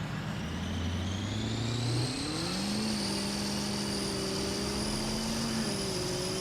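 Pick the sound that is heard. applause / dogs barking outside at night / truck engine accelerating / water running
truck engine accelerating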